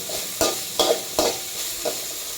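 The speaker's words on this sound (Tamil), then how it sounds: "கருவாடை போட போகிறோம். இது எண்ணெயில் இப்படி வதங்கணும், நல்லா வதங்கட்டும்." Dried anchovy karuvadu fries in oil under a soft sizzle, with four sharp spatula knocks against the pan spaced a little under half a second apart.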